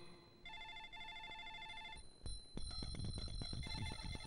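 A telephone rings in a Hindi-dubbed action film, with two clean electronic trills close by, then a clatter and busier background noise take over.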